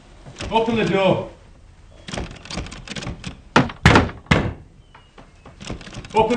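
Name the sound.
pounding on a door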